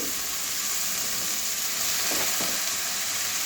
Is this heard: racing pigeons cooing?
no